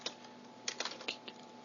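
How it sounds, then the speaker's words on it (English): Quick bursts of keystrokes on a computer keyboard, a scattered cluster of light clicks that come fast and irregular, close but quiet, with no voice. "whoa, crazy typing."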